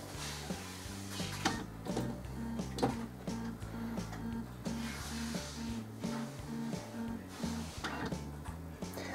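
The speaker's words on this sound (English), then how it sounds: "The printer will now take itself out of maintenance mode." A Brother DCP-135C inkjet printer runs its mechanism while coming out of maintenance mode, making faint, rhythmic whirring and clicking with repeated motor pulses and ticks over several seconds.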